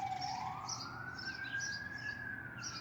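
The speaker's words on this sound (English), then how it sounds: "Y'all hear the sirens." A siren wails in the distance, its tone rising slowly and steadily over a low traffic rumble, with another faint warbling siren above it.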